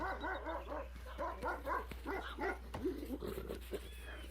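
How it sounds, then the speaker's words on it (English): Several dogs barking and yapping in Sherlock Holmes: The Awakened, a rapid run of close, overlapping barks with a few whimpering yips, heard alone with no talk. "Ooh, he's got dogs too."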